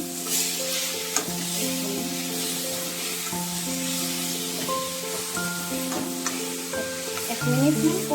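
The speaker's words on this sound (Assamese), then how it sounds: "অকণমান ভাজিম।" Spice powders including meat masala, red chilli powder, coriander powder and salt frying in a pan for an Assamese chicken dish, with steady close sizzling and repeated scraping stirs throughout, a voice speaking briefly over it.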